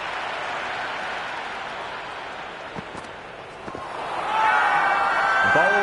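A stadium crowd in the Cricket 26 video game gives a broad, steady wash of applause and crowd noise. It swells louder near the end, with a few thuds partway through and a commentator speaking over it.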